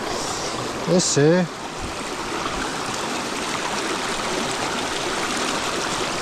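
Cold stream water rushes steadily and close by along a mountain bike route, a constant broadband wash, with a brief spoken word near the start.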